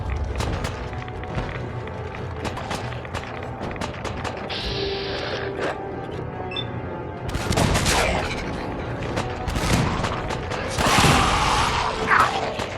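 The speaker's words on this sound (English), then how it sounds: "This is the Broadsider. It's a cannon. It shoots cannonballs." The Broadsider cannon in the video game Fallout 4 fires cannonballs in a series of booming shots mixed with mechanical clanks and reloading clatter, with bursts of louder blasts and impacts later on.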